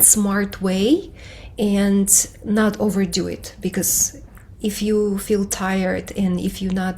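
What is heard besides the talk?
None of the usual background noises is heard.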